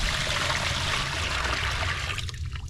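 Water from a bucket tipped roughly into a small plastic mini pond, a loud, continuous splashing gush that thins slightly toward the end.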